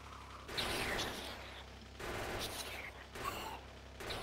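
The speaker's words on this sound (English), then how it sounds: "Oh, it's got this little machine gun on top of it." Bursts of machine gun fire from a vehicle-mounted gun in the video game Factorio, three rapid rattling volleys separated by short pauses, moderately quiet.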